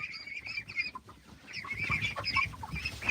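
Chickens and ducks on a live farm feed, with repeated clucking and squawking close by over shuffling and rustling, continuous throughout.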